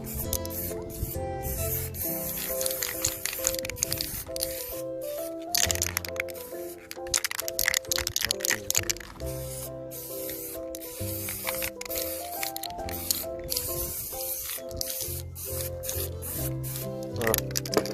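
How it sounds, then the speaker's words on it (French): A can of spray paint is applied lightly to the cylinder head of a Benelli TNT 125 motorcycle, heard as a series of close hissing bursts of varying length, broken by short pauses and faint clicks, with no speech. "Je bombe légèrement la culasse."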